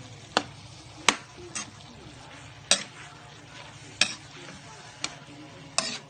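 Star margarine sizzles with pork sisig in a pan, a steady frying hiss punctuated by sharp scraping clanks of a utensil against the pan at irregular intervals.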